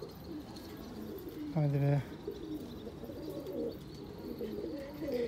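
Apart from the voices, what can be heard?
pigeons cooing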